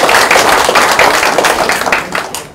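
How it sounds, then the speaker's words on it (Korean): An audience at a 2019 Korean unification talk concert applauds loudly, a dense burst of many hands clapping close by that slowly tapers off. "다시 한번 큰 박수를 보내주십시오."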